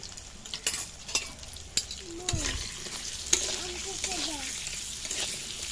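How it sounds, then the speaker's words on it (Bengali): Potatoes fry in hot oil, sizzling steadily up close while a utensil scrapes and stirs the pan, with brief quiet voice-like tones mixed in. "আলুগুলোকে লাল লাল করে ভেজে নিয়েছি"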